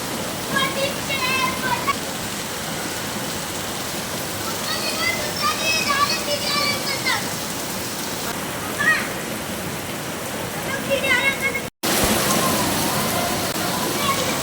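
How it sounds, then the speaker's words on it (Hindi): Stormy, windy rain pours down in a steady, dense wash that holds for the whole stretch with only a momentary break, and a voice talks over it in spots. "आप सुन सकते हो कितनी तूफ़ानी और हवादार बारिश हो रही थी"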